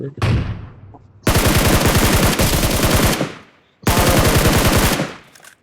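Automatic gunfire sprayed in BGMI, the mobile battle royale game: two long, loud, rapid bursts of machine-gun fire after a brief opening shot, with no speech over them.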